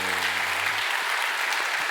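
A church congregation at a Sunday service claps in welcome for guests, producing dense, even applause from a crowd throughout, with a brief low tone fading out early on.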